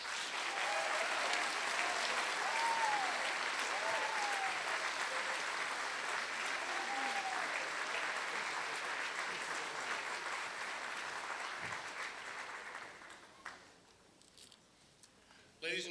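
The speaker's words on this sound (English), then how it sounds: "I invite you, the graduates, to applaud your family, your friends, your faculty, and the staff of Royal Roads who have helped you along the way" A crowd at a Royal Roads graduation convocation in fall 2005 keeps up sustained applause for over ten seconds, with a few voices briefly rising through it. The clapping then thins and fades away near the end.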